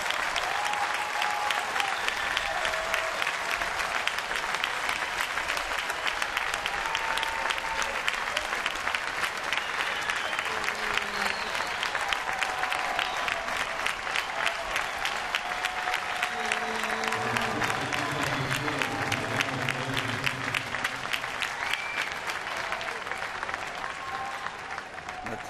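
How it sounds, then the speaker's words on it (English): A baseball crowd at PNC Park gives a long standing ovation, steady loud applause and cheering that fills the whole stretch without a break. "Standing ovation all around PNC Park."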